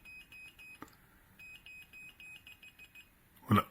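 A CIGMAN CD-60G laser measuring device gives a run of short, soft, repeated beeps as it finds the midpoint, followed by a sharp handling knock near the end.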